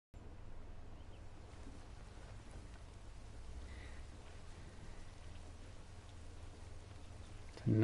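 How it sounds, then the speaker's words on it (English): Gentle summer rain in the video game Ghost Recon Breakpoint makes a soft, steady, even hiss throughout, faint and continuous, with a brief louder burst at the very end. "Nice little summer rain."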